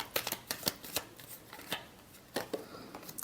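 Tarot cards being shuffled, a brief run of quick, crisp riffling taps up close, with speech nearby.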